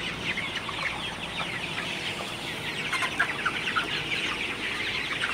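Many Sonali super hybrid chickens cluck and murmur together in a busy coop, a continuous chatter with occasional louder squawks close by.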